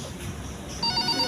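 A telephone ringtone starts near the end, a short repeating electronic tone over a faint room background.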